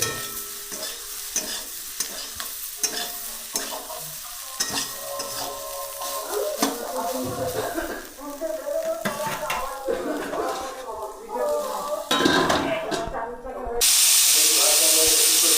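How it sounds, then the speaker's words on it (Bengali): Potatoes sizzle and crackle steadily in hot oil as a utensil stirs and scrapes the pan, with a louder hissing burst near the end. "তো গাইস এখন আলু ভাজা হচ্ছে"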